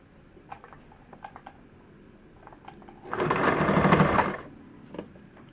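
A sewing machine stitches through a hole in the side of a blouse in one loud burst of rapid mechanical whirring lasting about a second, with faint soft taps and handling noises before it.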